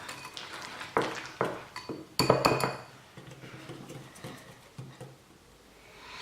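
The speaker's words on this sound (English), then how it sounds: "Whisk the egg yolks and butter and sugar very well." A hand whisk beats egg yolks, butter and sugar in a bowl, giving irregular metallic clinks and scrapes against the side, some louder strokes bunched together, then softer stirring.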